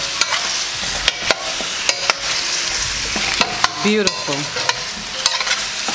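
Pigtail meat for Trinidad pelau sears in a pot with a loud, crackling sizzle, broken by sharp scrapes and clacks of stirring; a voice speaks briefly.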